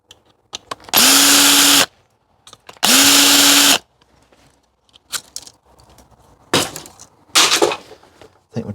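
A cordless power drill backs screws out of old equipment being scrapped: two steady whirring bursts of about a second each, followed by clattering and rattling of loose parts and metal handling, close up with no talk.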